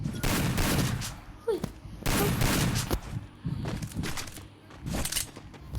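Gunfire in the video game Free Fire sounds as repeated loud bursts of automatic shots in several clusters, with a voice talking over it.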